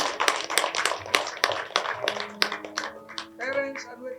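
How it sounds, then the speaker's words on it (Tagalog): Hands clap in a sparse, uneven pattern during a wedding ceremony, several sharp close claps spread across a few seconds, with a voice and other sounds rising near the end. "palakpak ko na malakas"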